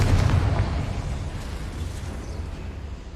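A Confringo fire spell explodes in Hogwarts Legacy with a loud, close boom that hits at once. The deep rumble then rolls and slowly fades over a few seconds, with no voices.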